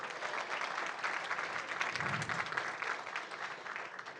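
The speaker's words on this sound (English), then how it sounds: "So give this group a round of applause." Audience applause at a school district governing board meeting, honoring a culinary team: steady, dense clapping from a room full of people, sustained and even throughout, with no talk over it.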